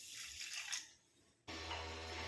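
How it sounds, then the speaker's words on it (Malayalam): Water splashes briefly onto sugar, then quiets before a fuller, steady watery rush sets in, soft and close with no talking. "അതിലേക്ക് ഇതാ ഒരു 1/4 ഗ്ലാസ് വെള്ളം ഒഴിക്കുന്നുണ്ട്."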